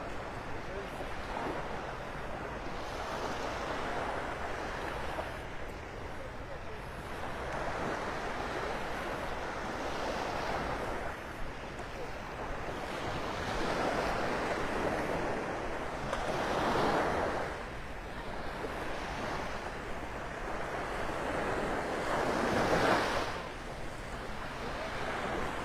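Waves break and wash up on the beach at Delnor-Wiggins in North Naples, a steady surf roar that swells in repeated surges every few seconds, mixed with light wind noise.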